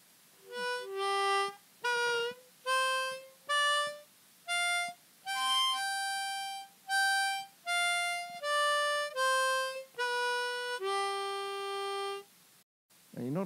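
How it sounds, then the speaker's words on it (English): A harmonica on holes 2 through 6 plays a pentatonic scale with a bent 3-draw note, roughly a dozen distinct sustained tones climbing and descending in a steady rhythm, close-miked and heard alone. "play that on the harmonica on holes 2 through 6."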